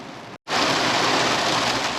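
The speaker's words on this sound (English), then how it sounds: "It is now, as you can hear, pissing rain outside, which it was not doing when I left home." Heavy, steady rain pours down outside near a sailboat, a dense unbroken hiss that cuts out for a brief moment near the start and then returns at full strength with no talking.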